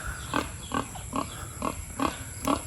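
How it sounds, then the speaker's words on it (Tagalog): Free-range pigs grunt at a new feeder in a steady, evenly spaced series of short snorts, moderately close, over a constant hum and background noise. "Ngayon na may pakainin namin yung mga baboy na doon sa bagong kainan."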